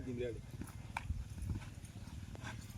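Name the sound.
horse hooves clip-clopping (Kathiyawadi horse Dhanraj)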